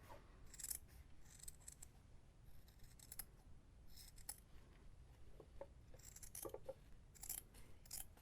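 Scissors trim excess patchwork fabric while a simple wallet is being made, giving quiet, close, repeated snips with short pauses between cuts.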